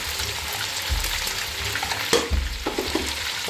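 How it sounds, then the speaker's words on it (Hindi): Green chilies and a spoonful of cumin seeds hit hot oil in a chicken karahi, giving a steady, close sizzle with a sharp crackle and clatter partway through, then a few lighter stirring knocks; no one speaks. "मैं 3 हरी मिर्चों में ऐसे कट लगा लिए हैं, ये डाल रही हूँ। और भर के 1 चम्मच ज़ीरा,"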